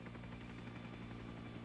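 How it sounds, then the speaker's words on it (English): An in-game helicopter comes in to land in Arma 3 S.O.G. Prairie Fire, giving a steady, moderately quiet rotor drone with a faint rhythmic chop that holds constant throughout and has no voices over it. "Once the helicopter's come in, and comes into land,"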